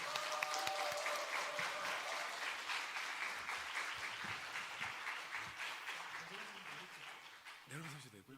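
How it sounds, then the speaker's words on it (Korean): Church congregation applauding to welcome a speaker at a parenting seminar, dense clapping that starts loud and gradually thins out, with voices becoming audible near the end. "박수로 한번 환영하겠습니다"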